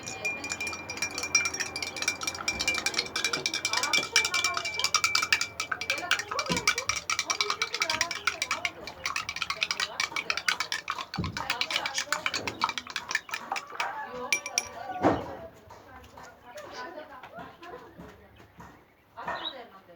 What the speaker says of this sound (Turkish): Ve buna da tuz atacağım. Ve karıştırıyorum.